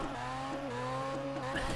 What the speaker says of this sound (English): Big old burnout.